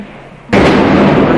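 On New Year's night 1994 in Grozny, during the storming of the city, a sudden very loud blast breaks out of a quieter background and is followed by a sustained, heavy rumbling roar.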